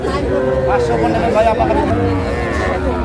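Sahiwal bull calves moo loudly and close at a busy cattle market in Dinajpur, several drawn-out calls overlapping with crowd chatter and nearby voices.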